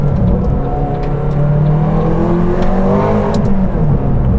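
A 707hp McLaren Grand Tourer supercar accelerating hard, its engine note rising loud and close through the gears in one continuous surge.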